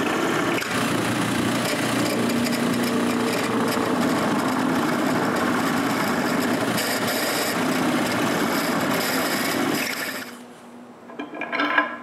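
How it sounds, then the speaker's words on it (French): Bolt holes being drilled or bored into wood for a homemade rip fence guide, giving a steady, loud, continuous rasping grind that runs for about ten seconds before stopping abruptly, followed by faint handling noise. "Il faut donc que je perce des trous pour que la tête du boulon soit encastrée dans le bois."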